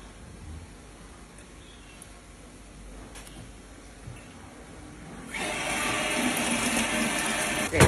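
Water poured into a baking dish of anchovies with oil, garlic and herbs, a quiet background at first, then a steady louder splashing pour over the last few seconds.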